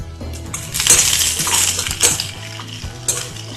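Ginger, garlic and onion drop into hot oil in a pan for chicken fried rice, a sizzling hiss with clinks and scrapes of a spoon stirring, close and fairly loud.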